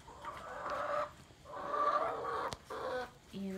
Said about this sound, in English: So we'll come over here into the chicken coop.